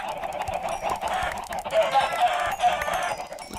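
Chickens in the Minecraft video game cluck repeatedly in quick, overlapping bursts, a busy close-up flock sound with no talking.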